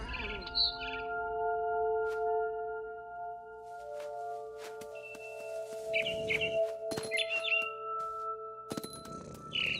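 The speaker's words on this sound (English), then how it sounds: "Then I heard chirping outside my window." Short bird chirps and tweets from the video game What Remains of Edith Finch ring out in small bursts over steady tonal hums and occasional clicks, with no voices.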